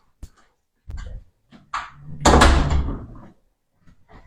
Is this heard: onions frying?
no